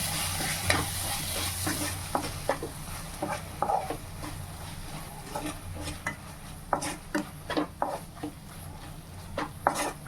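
Mushroom curry masala fries in a pan while a spoon stirs it, giving a steady sizzle broken by repeated scraping and clacking strokes against the metal, close by with no talking.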